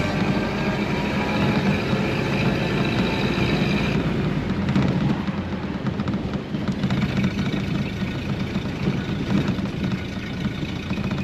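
A 1929 Ford Model A Depot Hack engine runs smoothly at a steady idle, a constant low rumble heard close by with no talking.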